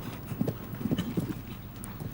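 Horse hooves thud in an uneven clip-clop across the Hickstead show jumping derby arena, a moderately loud cluster of muffled beats over steady crowd and outdoor ambience, with no talk.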